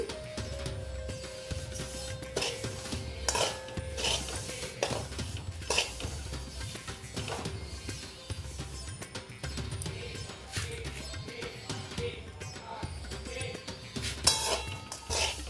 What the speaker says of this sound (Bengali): দেখো তিলটা আমি ভেজে নিচ্ছি